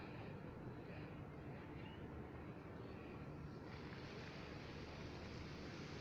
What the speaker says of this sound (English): water fountain show started.